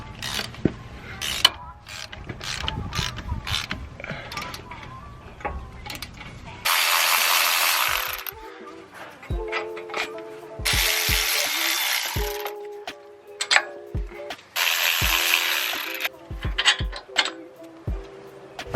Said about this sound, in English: so now we're going to go ahead and loosen up the bolts that hold in the wheel hub assembly